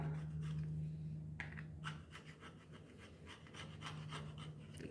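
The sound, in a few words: scraping paint off hacksaw blade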